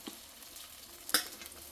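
Chopped onions for crab roast sizzle faintly as they sauté in a pan, a soft continuous frying hiss with a brief sharper clink of a utensil near the end.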